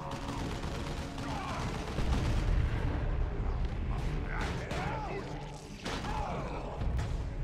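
Video game battle gunfire, scattered shots and bangs amid a busy, rumbling mix of combat noise at moderate level, with voices talking intermittently.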